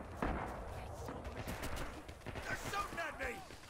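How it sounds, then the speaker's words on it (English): Gunfire in the WWII shooter game Rising Storm, several sharp shots and bursts near and far over a noisy battlefield bed, with faint voices under it. "They're shooting at me."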